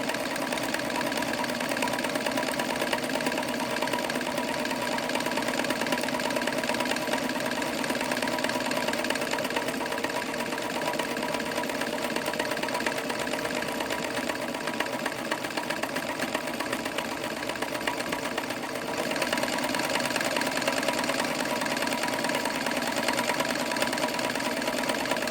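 A New Home Model 532 sewing machine runs a zigzag satin stitch, giving a steady, fast, close mechanical whirr with rapid needle chatter that holds unbroken throughout.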